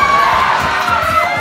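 A tournament crowd at a Super Smash Bros. Ultimate event screams and cheers loudly, a dense, sustained roar of excited voices with shrill shouts rising above it.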